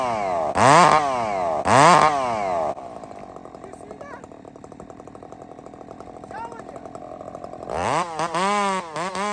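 A short-bar chainsaw cutting a log gives two loud revving bursts, settles into a steady, rattling idle, then climbs back to a high rev at the end, close and dominant.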